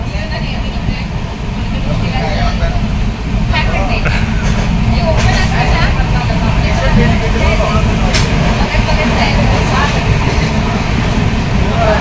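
The Diva-Sawantwadi passenger train rumbles along at a steady pace near Vaibhavwadi, its low carriage noise constant throughout, with faint voices of people talking inside the nearly empty coach.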